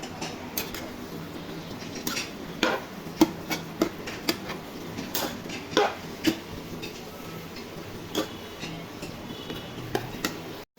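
Spatula taps and scrapes against a pan while red amaranth greens are stirred and fried, producing irregular light clicks and knocks scattered over a quiet background.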